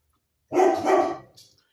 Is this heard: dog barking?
yes